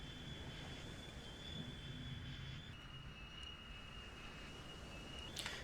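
Aircraft engines drone steadily in the World War II flight game Pearl Harbor: Zero Hour, a continuous loud engine hum with a sustained tonal whine that shifts pitch partway through.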